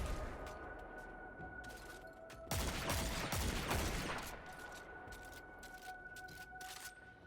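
An exotic gun in Destiny 2 fires rapid volleys of shots, with a dense, loud burst in the middle and lighter trailing shots, over a steady game ambience and tonal hum, with no talking.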